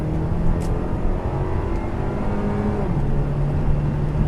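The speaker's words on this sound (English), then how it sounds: "I'm going to floor it in GS mode." A 2014 Buick Regal GS engine pulls hard at full throttle in GS mode, a steady loud drone with a rising tone that steps down briefly near the end as it shifts, heard from inside the car.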